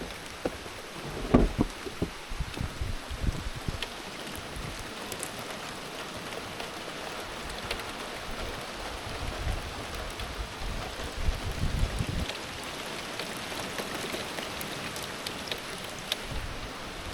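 Heavy rain pours steadily on a mountain cabin in the woods, a dense continuous hiss with scattered louder drips and patters close by, unbroken for the whole stretch without any voices.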